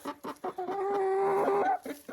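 A laying hen in a coop clucks and cackles in a long, drawn-out call, with shorter clucks before and after, close by and fairly loud.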